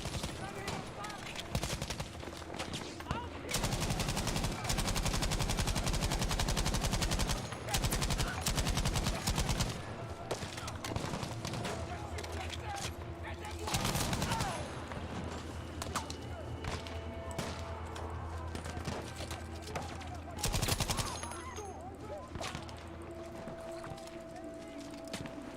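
Gunfire from a weapon in the video game Battlefield V crackles in repeated bursts and single shots throughout, with a person talking over the shooting.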